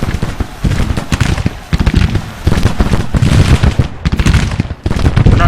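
Civil War musket volleys from the Grand Tactician battle game crackle loudly and continuously, dense overlapping shots rolling in waves with brief lulls between heavier bursts.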